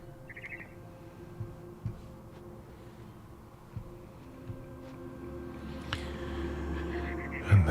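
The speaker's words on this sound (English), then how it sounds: "Then I heard chirping outside my window. It was a barn swallow going back to her nest." A barn swallow chirps outside a window in What Remains of Edith Finch, with short bright calls scattered over a steady low ambient game hum, a few soft thumps breaking through.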